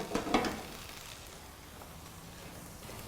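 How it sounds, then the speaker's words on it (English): Mushrooms, tomatoes and baby marrows are stirred quickly in a pan, giving a couple of short scraping clatters near the start over a faint sizzle, then a brief knock at the end. "A quick stir."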